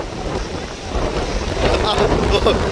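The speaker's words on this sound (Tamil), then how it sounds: "கேசவன் படுற பாட்டை பாருங்க காத்துக்கு" Strong wind roars steadily across a beach shoreline where goods have washed ashore, buffeting the microphone with low rumbling gusts that swell louder in the second half, with faint surf beneath.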